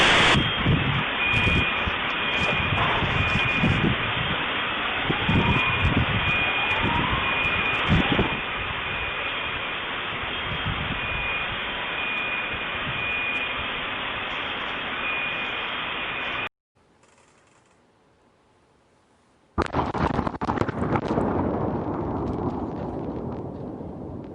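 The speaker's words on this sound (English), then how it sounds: "that clip showed a pretty large explosion" A large explosion in Nashville erupts in a massive roaring blast with rumbling that sustains, cuts to near silence, then returns as loud booming noise with debris-like crackle.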